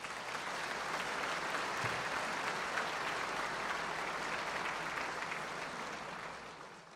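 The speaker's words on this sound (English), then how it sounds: "Ladies and gentlemen, please, one more round of applause for them." Sustained audience applause at an awards show, steady dense clapping from a large crowd that fills the whole stretch and tapers slightly at the end.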